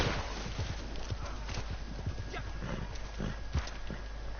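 Horse hooves clip-clopping in Red Dead Redemption 2 Online, a brisk, regular beat of close hoof strikes carrying on throughout under a low continuous game background.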